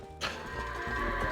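Goats bleat in the Ordon village area of the video game The Legend of Zelda: Twilight Princess. One clear, drawn-out bleat starts abruptly and holds steady over a busy game background.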